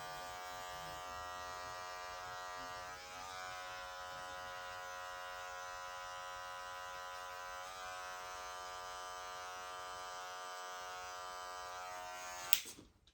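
Electric hair clippers buzz steadily and close up while cutting a low taper fade, the lever gradually opened, a continuous even drone with a brief dip near three seconds and a sharp click as they stop at the end.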